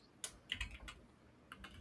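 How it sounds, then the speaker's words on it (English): Quiet, quick clicks of fingers typing on a computer keyboard, a handful of light keystrokes in uneven bursts. "I can hear Clifton just finger typing like"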